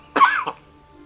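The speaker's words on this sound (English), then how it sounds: "1 second, I need to cough." A single sharp cough, close and fairly loud, with a rough throaty burst followed by a shorter second catch, then quiet.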